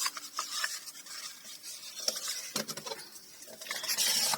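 Paper pockets being folded and burnished by hand, giving soft rubbing and scraping strokes with brief crisp crinkles, close and fairly quiet.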